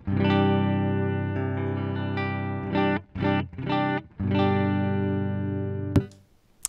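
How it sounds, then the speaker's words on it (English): Electric guitar clean tone through free amp simulator software on a computer, sustained ringing chords with a few quick strums and choppy muted stops, close and fairly loud, ending in a sharp pick scrape and silence. "So let's hear how this clean tone sounds right here."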